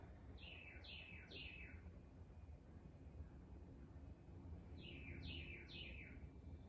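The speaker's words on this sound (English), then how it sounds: "Feeling free, just like those birds." Two quick bursts of three descending bird chirps each, separated by a pause, over a steady low outdoor rumble.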